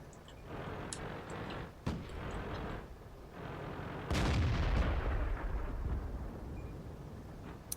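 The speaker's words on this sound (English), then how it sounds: "Apparently the artillery could see him. Good work, artillery." Artillery fire in the World of Tanks video game, with heavy booming blasts, one sharp crack early on and a larger rumbling explosion midway, heard in a quiet, low-level game mix without talk.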